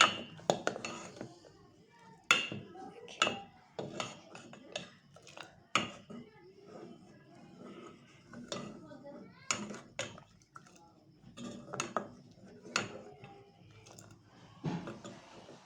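Sweet vermicelli (sevaiyan) is stirred with desi ghee in a pot, a metal spoon scraping and clanking against the sides in uneven bursts while a person talks softly.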